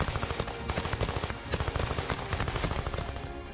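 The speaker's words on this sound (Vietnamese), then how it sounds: "Lập tức nã đạn, chĩa súng liên thanh vào hầm đào." Loud, continuous machine gun fire on a battlefield, rapid rattling bursts pounding in quick rhythm throughout with overlapping shots and no pauses.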